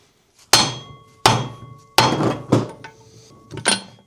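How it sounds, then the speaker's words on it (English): Hammer blows ring out on the shaft of a vintage Buffalo No.18 drill press, five sharp metallic strikes with ringing decay, spaced irregularly and close, with no voices. "This isn't the most ideal hammering setup."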